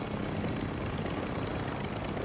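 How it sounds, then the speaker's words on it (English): An enemy helicopter in Call of Duty Modern Warfare II gives a steady, dense rotor rumble and engine drone that stays unbroken and moderately loud throughout. "Enemy helo mark."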